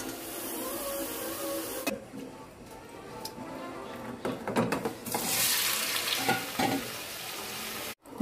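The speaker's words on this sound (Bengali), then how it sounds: "মালাইকারি চাপাচ্ছি, মেথি ফোড়ন" Fenugreek seeds tempering in hot oil in a pan while a Bengali chingri malaikari is started, giving a steady close sizzle and crackle with stirring scrapes, a louder burst of frying near the end.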